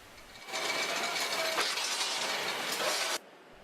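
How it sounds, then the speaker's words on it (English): Automated robotic machine drawing reinforcing steel from coils, cutting and bending it in a concrete panel plant; a loud, steady mechanical whir with faint metallic clinks runs for about three seconds, then stops abruptly. "the steel is drawn from the coils, cut, bent and placed in the detailed locations as per the 3D model"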